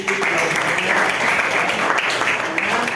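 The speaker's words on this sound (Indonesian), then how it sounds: "tepuk tangan buat Lutfi" Steady crowd applause, dense clapping throughout, fairly loud and close, with no pauses.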